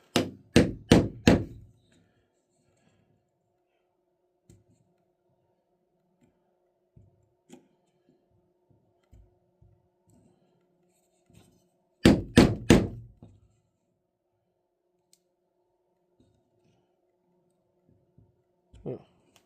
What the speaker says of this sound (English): Put the chisel in that seam.